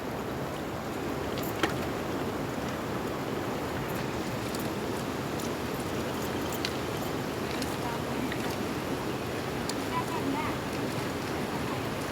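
A waterfall near a clear river in the Konkan region gives a steady, even rush of falling water, constant and full throughout with no pauses.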